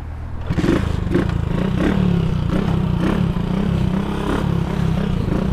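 A Yamaha MT-09 motorcycle engine starts up close and idles loudly with a throbbing, uneven pulse and some clattering mechanical noise, with no one speaking.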